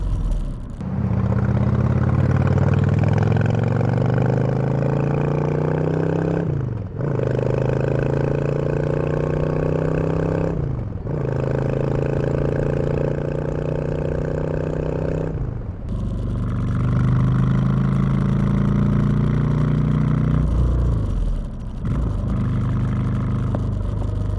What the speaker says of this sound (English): let's compare the stock exhaust with no baffles to these new TJBRUTAL drag pipes with 8-inch baffles